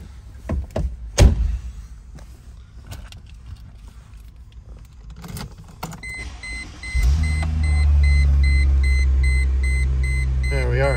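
A gray 2008 Chrysler Crossfire Convertible is entered: scattered door and seat clunks and rustling, then the engine cranks and settles into a steady, fairly loud idle hum with a few faint chimes.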